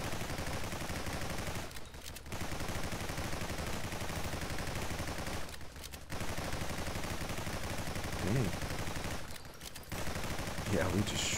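Dense, continuous gunfire and launcher blasts from the shooter game Nimrods: GunCraft Survivors roar steadily with only brief gaps, loud and close throughout.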